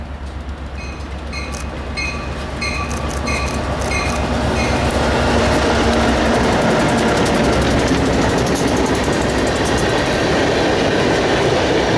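A train on the Housatonic Railroad rolls past nearby, opening with a warning bell and a high whine before a loud, steady roar of wheels and rumbling cars builds and holds.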